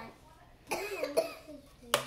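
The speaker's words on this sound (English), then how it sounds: "Cough in your arm." A child coughs a few times, short sharp bursts spread over two seconds at close range, with faint background sound between them.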